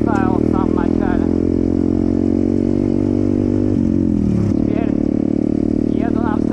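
A BSE 125 pit bike engine runs loud and steady while riding, with a constant drone that dips and shifts pitch as the rider changes speed, and someone talks over it.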